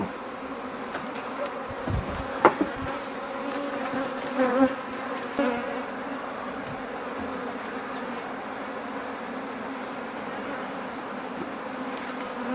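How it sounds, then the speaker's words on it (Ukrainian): Bees hum in a continuous drone close by around a hive that has swarmed, with a few louder buzzes darting past early on, then a steady swarm sound. "Бджоли гудуть, запах божественний."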